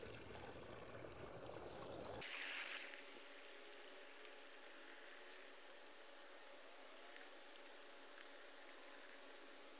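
A garden hose runs water into a Treegator Original slow release watering bag, a steady broadband hiss and rush of flow, fairly close and constant, starting after a short louder burst at the beginning.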